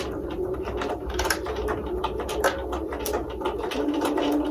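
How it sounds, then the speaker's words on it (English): A home sewing machine stitches along the two folded edges of fabric, its needle and gears chattering in a quick, uneven mechanical run, close and fairly loud with brief pauses. "And then I will sew right along."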